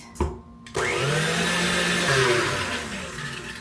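An electric mixer whirs through butter, cream cheese and sugar, starting with a brief knock, then spinning up to a loud, steady motor drone that sways slightly in pitch as the beaters work the mixture.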